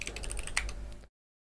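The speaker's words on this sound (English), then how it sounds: "Typing is hard" Quick, light keystrokes on a computer keyboard, a short run of close clicks lasting about a second before cutting to silence.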